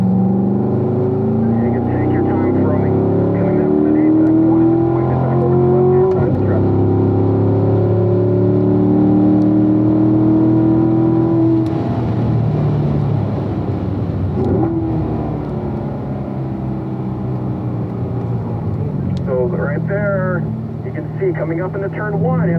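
A race car engine drives around a track, loud and close, with the engine note rising and falling through gear changes and braking, and someone talking over it throughout.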